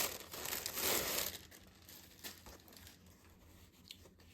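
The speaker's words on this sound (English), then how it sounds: "Excuse the rustling. I am going to get it out of its bag." A plastic bag crinkles and rustles up close during the unboxing of a cross-stitch subscription box, a loud burst of crumpling at first, then quieter scattered crinkles.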